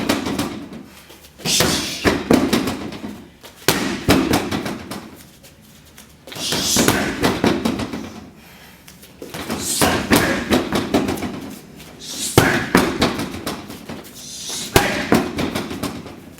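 Punches and hooks strike a leather heavy bag during Filipino martial arts training, with repeated sharp thuds and slaps in uneven bursts, loud and close, separated by short pauses and breathing, no speech.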